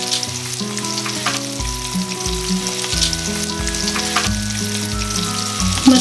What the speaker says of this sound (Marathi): कोळंबी आपण एक एक करून फ्राय करायला ठेवूयात